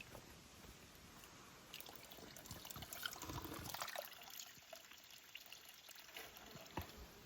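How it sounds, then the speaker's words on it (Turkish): Natural mineral spring water flowing out of rock, a faint, continuous trickle and splash heard close by, quiet and steady without talking. "Şimdi burada şu kadar akan bir maden suyu var bu."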